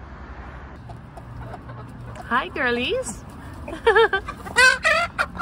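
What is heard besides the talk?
chickens clucking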